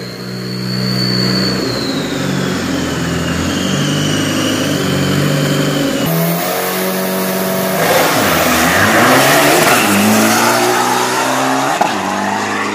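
An Isuzu diesel pickup with a 3000 engine makes a drag-racing run on a track. The engine roars loudly and steadily, with rising revs through gear changes and a brief tire squeal, close and dominant throughout.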